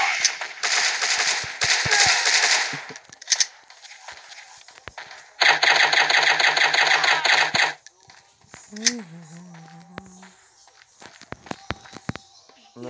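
Video game gunfire: bursts of rapid shots in the first seconds and a sustained automatic volley in the middle, mixed with footsteps and game effects, while players talk over it.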